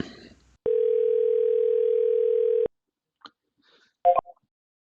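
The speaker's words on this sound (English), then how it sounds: "my cell phone will start ringing in just a moment" A single steady two-second outbound phone call tone, placed to a cell phone, sounds clearly, followed by silence and a couple of brief electronic blips.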